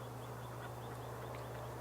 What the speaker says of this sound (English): Ducks are walking all around it, doesn't care.